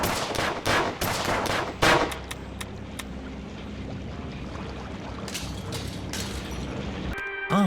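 Gunfire in the Sam and Max video game, a burst of loud rapid shots over the first two seconds, then scattered fainter shots and game sounds, with a sharp electronic tone near the end.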